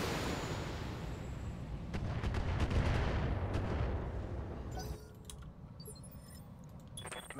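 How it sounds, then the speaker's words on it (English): Rapid gunfire in a video game battle, dense crackling shots layered over a heavy rumbling din that grows loud midway, then drops to sparse, quieter distant pops and clicks near the end. "Come on, keep firing"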